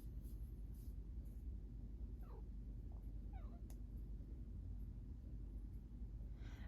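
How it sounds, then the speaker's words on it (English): Hemingway, a pet cat, gives a few soft, short mews that sit faint over a steady low rumble, with small clicks and knocks scattered around them. "I think you also just have the cutest little mews, Hemingway."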